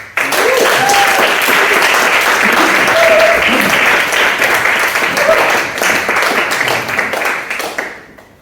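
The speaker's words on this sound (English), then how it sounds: "Please give a big, warm round of applause for Nick, everyone." A live audience claps and cheers for a stand-up poet at an evening spoken-word event, a dense, steady round of applause carrying on for several seconds with a few brief voices and whoops mixed in, then fading out at the end.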